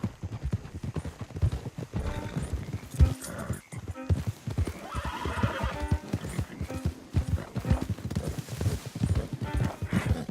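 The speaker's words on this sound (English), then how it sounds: "Don't want the horses clopping around outside the window." Horse hooves clopping in Red Dead Redemption 2 near a mayor's house party, a steady close rhythm of clip-clops with a whinny, over game voices and background noise.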